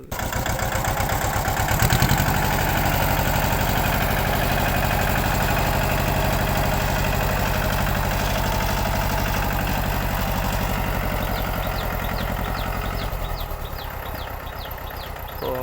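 A Mahindra Jivo 245 tractor engine chugs steadily and loudly nearby in first gear while ploughing a field, a continuous low mechanical throb running the whole time.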